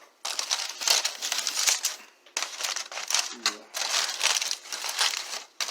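Tin foil crinkling and crackling as it is peeled open from a smoked pork butt after hours of wrapping, close, loud bursts of rustling in several bouts with brief pauses between.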